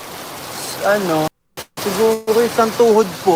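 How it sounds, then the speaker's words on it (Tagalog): Heavy, steady rain pouring down during a flooding downpour, a dense hiss broken by a brief dropout, with people talking over it throughout. "Ang lakas, grabing ulan"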